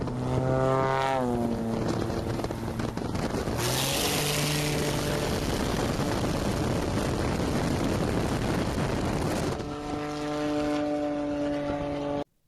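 A jet aircraft roars past low over sand, the loud broadband blast swelling and then falling away over several seconds, with a whining engine tone before and after the pass and no talking.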